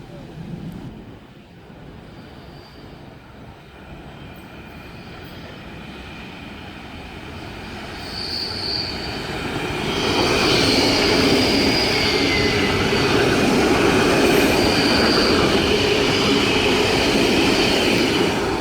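Sydney S-set electric suburban trains run along the down main toward Campbelltown, a broad rumble and rush that swells from about ten seconds on and stays loud and steady, with faint wheel squeal.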